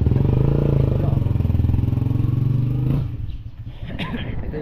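A motorcycle engine runs close by with a steady, throbbing idle that drops off after about three seconds, leaving lighter background noise.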